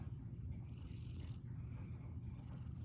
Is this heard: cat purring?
yes